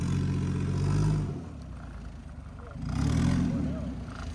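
A turbocharged Lexus IS300 with a CT20 turbo revs twice, each rise swelling into a loud, throaty roar before dropping back, while people talk over it nearby.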